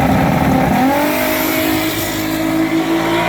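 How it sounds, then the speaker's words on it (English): A Chevrolet Trailblazer's inline-six engine screams at high revs, pitch rising then holding steady, continuous and close throughout. "I wanted that high revving inline six sound."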